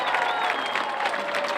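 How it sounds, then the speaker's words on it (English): Crowd applause rings out at an outdoor March For Our Lives protest in El Paso, Texas, a brief burst of steady clapping with some cheering, moderately loud and close. "Let's have a big round of applause for the organizers for bringing us all out today"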